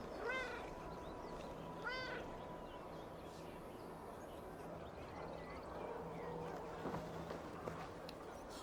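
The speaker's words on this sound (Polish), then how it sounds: "To jest kot znowu." A cat in Assassin's Creed Valhalla gives two clear rising meows early on, close and distinct over a steady outdoor ambience with faint bird calls; no talk.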